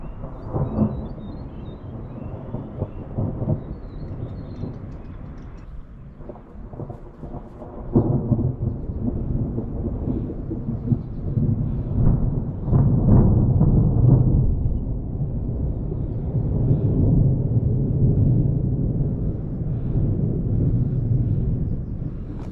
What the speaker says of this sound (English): It's been thundering quite often and started drizzling as well, so pretty gnarly.